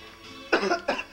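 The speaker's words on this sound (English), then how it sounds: "Oh, I coughed." Two short, sharp coughs in quick succession, close and fairly loud, over a faint steady hum.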